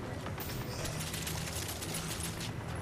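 Assault rifle gunfire from the video game Doom Eternal, a dense continuous stream of rapid shots layered with game effects, steady and fairly loud throughout.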